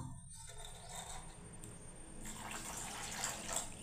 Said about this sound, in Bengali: আমাকে আরও জল লাগছে বন্ধুরা